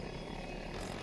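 Steady rotor and engine drone of an Osprey VTOL hovering in helicopter mode in the Battlefield 2042 video game, a faint continuous whir with no voices.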